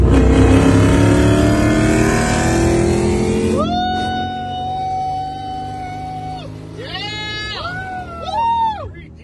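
A loud muscle car engine roars and revs for a few seconds on a drag strip, then gives way to bleating-like squeals and shouting voices over a steady rumble.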